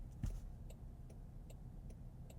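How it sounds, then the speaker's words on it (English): The turn signal of a 2021 Land Rover Discovery R-Dynamic S ticks faintly and steadily, about twice a second, over a low cabin hum. "You want to hear the turn signal?"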